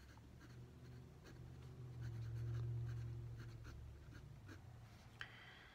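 Nib of a short-model Esterbrook Transitional J vintage fountain pen with a 9668 nib scratching lightly across paper, faint soft strokes over a low steady background hum, with a small tap near the end.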